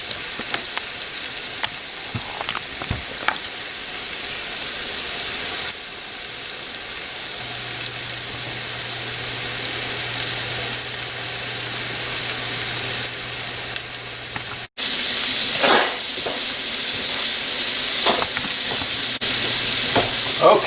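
Mango pickle sizzles and crackles in a hot pan for a long stretch, with a clatter partway through, then louder spitting frying after a brief cut.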